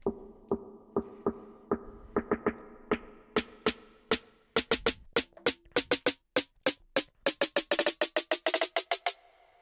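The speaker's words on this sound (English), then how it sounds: "I use this build-up snare as well that I made quickly." A repeated build-up snare hit for a moombahton remix, drenched in reverb, striking faster and faster as its pitch climbs upward, ending in a dense, bright roll.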